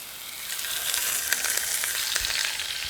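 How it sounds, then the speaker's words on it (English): Fish fillets hit oil just starting to smoke in a hot pan, giving a steady close bright sizzle and crackle with a few sharper pops, no talking. "Hear that nice sizzle?"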